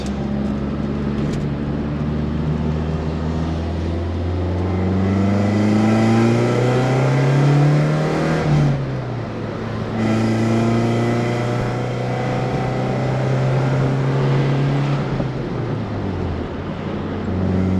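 A rare Mercedes car engine drones steadily while driving, rising in pitch as it accelerates and then dropping at a gear change into fourth before climbing again, heard from inside the car and continuous throughout.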